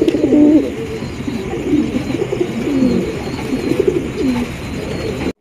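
Pigeons coo repeatedly at a pigeon market selling Jharna satin pigeons, the soft throaty calls overlapping in a steady rhythm over busy background noise, close and moderately loud.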